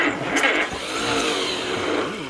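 A 1951 Allis Chalmers WD tractor engine cranks over in a steady, loud, churning rush without catching, with no voices.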